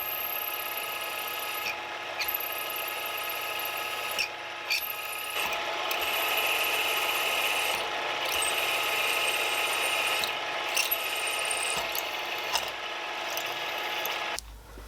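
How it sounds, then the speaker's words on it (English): A drill bores bolt holes on a 100-year-old machine with the work clamped in a vise, a steady high whine running throughout with brief dips and small clunks as the bit cuts. "To drill out these two over here furthest away from the vise"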